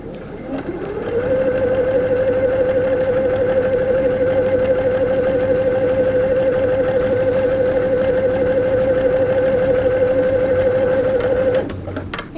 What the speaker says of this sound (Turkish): Şimdi makine dikişinde 22 santim olan tarafı düz dikiş tekrardan yapacağım.